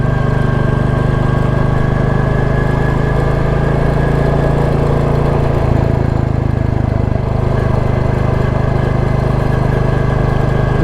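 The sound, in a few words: Royal Enfield Classic 350 J-Series engine chugging in second gear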